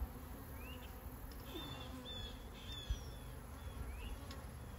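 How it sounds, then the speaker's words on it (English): A honey bee buzzes close by at an open beehive, a faint, wavering drone over a steady outdoor background hum with a few brief brighter chirps. "I got a bee over here checking me out."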